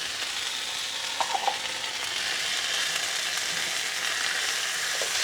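Green beans and minced garlic sauté in a hot pan, giving a steady, bright sizzle throughout with a couple of soft clinks near the start; no one speaks.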